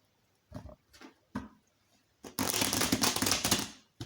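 Belline oracle cards are handled with a few soft taps and slides, then shuffled in a dense, crisp riffling rush lasting under two seconds, close and fairly loud.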